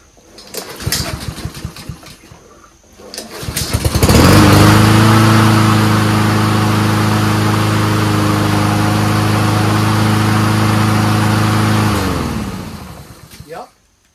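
A Troy-Bilt 21-inch front-wheel self-propelled mower with a Honda engine is pulled and starts, then runs at a loud, steady close drone for about eight seconds before winding down and shutting off.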